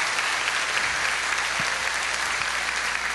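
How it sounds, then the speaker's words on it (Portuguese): Audience applause at a Seicho-No-Ie television program talk, a steady wash of many hands clapping at even loudness throughout, with no voices over it. "Vocês estão aplaudindo porque entenderam ou porque ele era surdo?"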